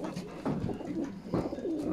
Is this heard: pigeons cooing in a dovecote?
yes